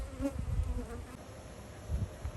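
Honeybees buzz around a community feeder in Grand Rapids on a warm November day, a steady close swarm drone with no voices over it.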